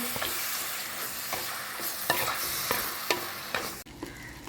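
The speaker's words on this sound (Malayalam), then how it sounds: "നമ്മൾ എടുത്ത് വെച്ചിരുന്ന ചിക്കൻ ഇതിലോട്ടിട്ട് നല്ലതുപോലെ ഒന്ന് വഴറ്റി" Chicken pieces sautéing with spice powder in a pan for chicken curry, with steady frying sizzle and a repeated scrape and clack of a spoon stirring, closing in a louder clatter.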